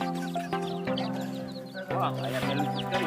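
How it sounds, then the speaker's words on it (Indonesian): A chicken clucks repeatedly in short bursts over a musical background, with a voice also present. "Wow, ada ayam teman-teman."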